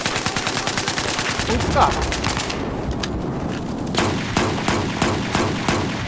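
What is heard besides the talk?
gunfire in video game Battlefield 4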